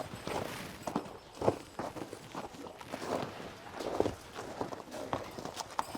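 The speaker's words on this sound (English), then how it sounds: "their feet click when they walk" Reindeer on a Vermont farm walking nearby, their hooves giving off repeated close clicking and clopping footfalls in an uneven rhythm, with soft breathing and movement around them.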